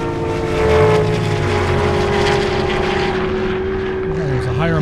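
A Corvette Z06 and a Charger making a 1,000-horsepower launch at an airstrip drag event, with a loud, sustained engine roar and rising harmonic whine that shifts near the end.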